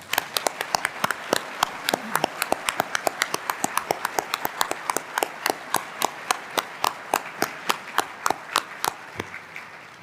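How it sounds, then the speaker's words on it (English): An audience at a luncheon claps steadily for about ten seconds, the individual hand claps sharp and distinct, close and fairly even in loudness, with no talking over them. "Now you can clap for all of them."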